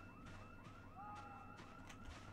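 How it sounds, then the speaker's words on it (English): A house alarm sounds far off in the video game Project Zomboid, a faint repeating wailing tone that rises and falls several times over low background noise, with no one speaking. "I hear a house alarm."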